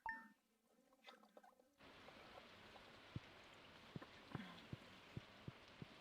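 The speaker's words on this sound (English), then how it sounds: "Oh, it's raining today." Light rain falls steadily as a soft, quiet hiss with sparse drips and taps, heard alone after a brief unrelated sound at the very start.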